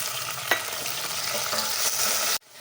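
Onions and two large tomatoes frying in a pan, a continuous close sizzle with a brief stirring knock near the start, cutting off abruptly just before the end.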